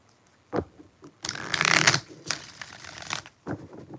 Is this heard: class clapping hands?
no